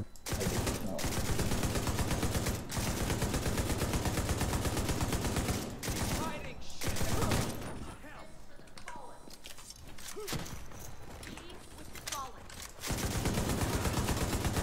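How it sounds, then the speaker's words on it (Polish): Gunfire and explosions from the shooter game The Division 2 rattle in dense, loud bursts and sustained fusillades, with a quieter stretch in the middle, while people talk over the action. "Ale wybuchy."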